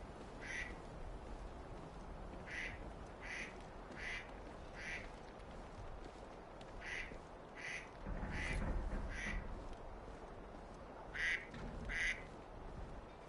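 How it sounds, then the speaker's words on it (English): A phone ringtone made of a duck quacking sounds during a Sniper Elite Resistance gameplay session: short bright quacks repeat in a steady rhythm, then pause briefly and resume, moderately loud over quiet game ambience. "I've never noticed the sound of a duck before."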